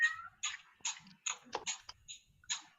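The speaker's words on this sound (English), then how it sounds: "I heard a cat." A house cat meows repeatedly during an online group meeting at home, about six short, clear calls in an irregular rhythm, fairly close and alone against near silence.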